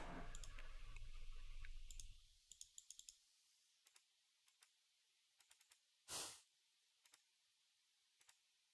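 Rapid mouse clicks while playing Magic: The Gathering Online, a Pioneer Birgi combo deck, with a dense run of clicks for the first two seconds, then sparse single clicks and one brief whooshing game sound.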